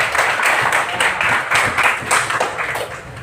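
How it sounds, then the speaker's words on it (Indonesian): Students in a classroom clap close by, loud, with a rhythmic pulse of beats in a regular pattern throughout, and almost no talking. "Bagus, tepuk tangan dulu nak."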